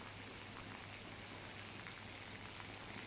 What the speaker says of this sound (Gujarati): મેંદરડા પંથકમાં ધોધમાર વરસાદ વરસી રહ્યો છે।